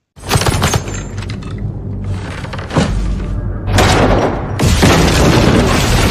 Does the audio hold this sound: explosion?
yes